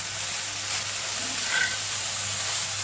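Boal fish roe fries with spices in a pan, giving off a soft, steady sizzle with a faint hiss that stays low and even throughout, with no talking over it.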